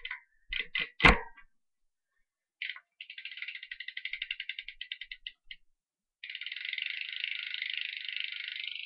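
A bicycle rear hub freewheel spins after greasing, giving bursts of rapid, crisp ratcheting clicks separated by short silences, with one sharp knock near the start; close and fairly quiet, no voices.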